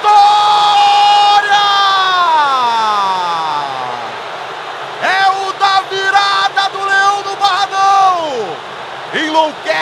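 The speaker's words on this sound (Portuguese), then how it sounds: "Enlouquece a torcida rubro-negra." A stadium crowd of Vitória supporters roars and chants after a goal in a Bahia state championship derby, a loud, sustained wall of cheering with rising and falling shouts, followed by renewed bursts of yelling.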